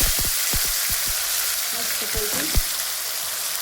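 A tomato, onion, green chilli and garlic paste hits hot oil with cumin seeds for a gourd kofta curry, giving a loud, steady sizzle with crackling pops and a few spoon knocks.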